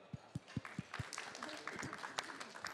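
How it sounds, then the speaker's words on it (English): Scattered claps from a summit audience, a few sharp isolated hand claps at first, then a light ragged patter of applause that builds slightly but stays fairly thin and moderately distant. "Please give a round of applause to Isabelle here."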